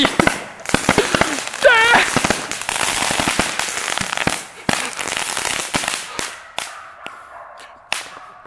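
Fireworks go off on New Year's in a forest in Nacogdoches County, Texas, as a fast run of sharp cracking bangs and crackles, then sparser separate pops near the end, with a voice calling out over them.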